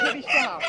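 A large native chicken at a busy village market gives a brief cluck, mixed in with nearby voices talking over it.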